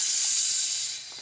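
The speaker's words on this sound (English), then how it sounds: "It's just a drop of water going into a hot skillet" A drop of water hits a hot skillet and gives off a steady, close, loud hiss of sizzling that holds for about a second, then tapers off, with no voices.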